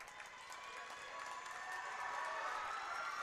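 The Crosspointe crowd at a JV basketball championship applauds and cheers, a dense wash of clapping and shouts that swells slightly louder toward the end, heard from a moderate distance.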